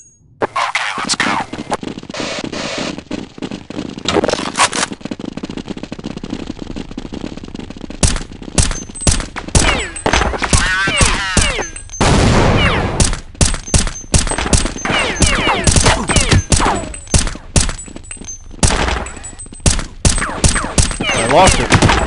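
Rapid bursts of automatic gunfire from Counter-Strike 1.6 on a dust2 map, loud and near, crackling in dense volleys with short gaps and brief radio voice callouts mixed in.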